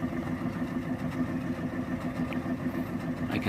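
A car engine with a leaking head gasket idles steadily, a low continuous rumble with a faint hum, close by and running alone with no voices.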